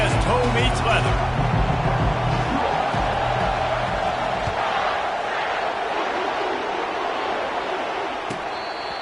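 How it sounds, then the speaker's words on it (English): Stadium crowd cheering and roaring in the Madden football video game at the start of a season, a broad, steady wash of noise with a commentator talking over it, fading slightly toward the end. "They challenge this crowd to bring the energy, and I'd say they're doing that."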